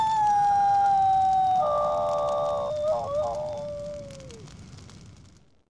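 Dog howl from the PlayStation game Tenchu: Birth of the Stealth Assassins, a long, loud, wavering tonal wail that rises briefly, holds, then slides down and fades out over about five seconds, with no talk.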